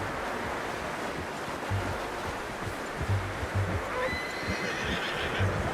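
A horse in the video game Red Dead Redemption 2 neighs faintly amid steady wind and surf-like ambience, with soft hoof clops and low rumbles, no talking.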